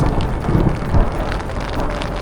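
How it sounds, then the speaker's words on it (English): A thunderstorm over the Canadian Rockies backcountry, heavy continuous rain and low rumbling thunder with wind, a dense unbroken roar throughout. "We are currently in the storm."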